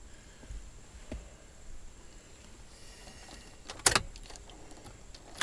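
Keys jingle and click in the ignition of a Chevy HHR as it is turned off, soft rattles in a quiet car, then a sharp metallic clatter near the end.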